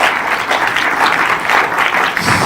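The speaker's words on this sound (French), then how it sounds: "J'aimerais que vous applaudissiez de façon très très chaleureuse et Brigitte Rosenberg et Lynn Toubiana" Warm audience applause at an Israeli cinema festival event in Cannes, dense continuous clapping from a large indoor crowd, steady and loud with no voices over it.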